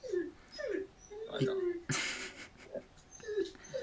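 A dog whines and whimpers in a series of short, thin, rising cries mixed with breathy sniffs, close by, with a person speaking briefly among the sounds.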